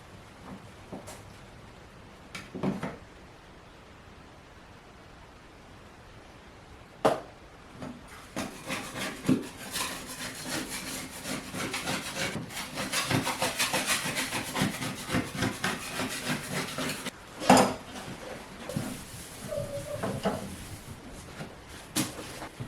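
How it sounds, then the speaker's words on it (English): An old, beat-up putty knife scrapes an old toilet wax ring in repeated rough, rasping strokes, close and steady, with a few sharp knocks between them. "I'm just using an old beat up putty knife, which appears to be working wonders."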